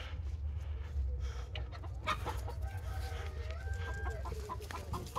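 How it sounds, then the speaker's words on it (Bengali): Several chickens cluck together nearby at an outdoor picnic, with one brief crow-like call, continuous and fairly soft, with no talking. "গাইস দেখো মুরগিগুলো দেখা একদম"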